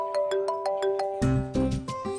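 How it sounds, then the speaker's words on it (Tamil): A phone rings with a melodic ringtone: a repeating pattern of bright electronic notes, then a fuller, louder chordal phrase, fairly close and with no talking. "எதுக்கு நம்மளுக்கு போன் அடிக்கிறான்?"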